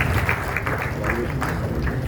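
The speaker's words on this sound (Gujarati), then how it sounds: "આના માટે જોરદાર તાળીઓ વધારે એટલા માટે વાગવી જોઈએ" Audience at a Jain Chaturmasik Samaiyu drama event applauds steadily, a dense wash of clapping sustained throughout at moderate loudness.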